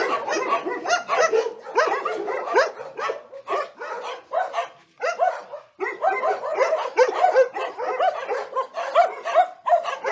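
Many dogs bark continuously at the Ciapek animal shelter in Hajnówce, a dense overlapping chorus of barks and yips with brief pauses, fairly close and loud.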